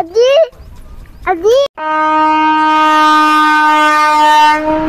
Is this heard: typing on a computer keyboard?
no